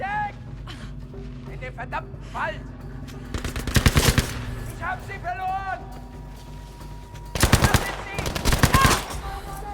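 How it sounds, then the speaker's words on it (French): Submachine gun fire in Battlefield V, two loud sustained bursts of rapid automatic shots close by, set against game music and a steady background drone. "Oh là là, ils ont des mitraillettes, j'ai un fusil."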